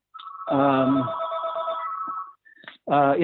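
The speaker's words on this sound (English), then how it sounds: "Sorry, I had a phone ringing." A telephone rings in bursts of electronic bell-like tones, loud and close, with a pause and then another ring starting near the end.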